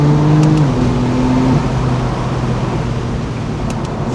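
A 600HP BMW F82 M4 under hard acceleration, its engine droning loud and steady from inside the cabin with a low rising tone and no talk.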